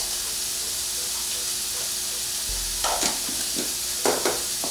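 A spoon stirs a breakfast bake mixture with cheese, salt and black and white pepper in a pan, giving steady soft scraping and sizzling with a few louder stirring scrapes toward the end.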